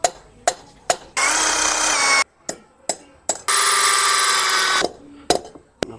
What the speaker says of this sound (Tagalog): Ngayon gamit ko itong Ryoko impact drill para dito. Pagbutas natin ang semento guys.